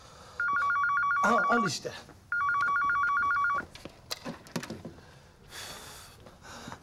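A telephone rings in two bursts of an electronic trill, each lasting over a second, loud and close, with people talking between and after the rings.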